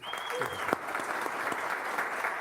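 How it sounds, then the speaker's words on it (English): Audience applause for a conference panel on digital investment and crypto, a steady wash of clapping filling the whole clip at moderate level, with no talk over it. "I want to give our panelists a nice round of applause"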